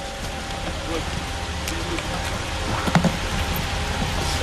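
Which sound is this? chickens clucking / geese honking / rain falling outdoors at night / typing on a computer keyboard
rain falling outdoors at night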